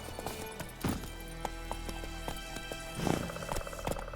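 Roach, the horse in the video game The Witcher 3, gallops in steady clip-clopping hoofbeats over a continuous low game soundscape, with a couple of louder thuds and snorts standing out.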